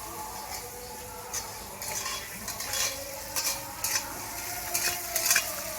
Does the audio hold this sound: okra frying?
yes